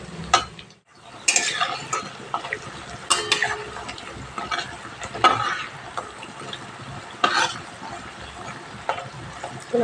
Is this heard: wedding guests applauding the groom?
no